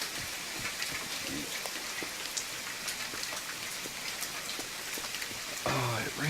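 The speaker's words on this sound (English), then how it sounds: "Oh, it rains so much here." Steady rain pours down in the survival game The Forest, a constant close hiss of drops on surfaces throughout, with a brief low thud near the end.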